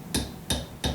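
A hammer taps a motorcycle wheel bearing into place with three sharp, evenly spaced metallic strikes, close and clear with no talk.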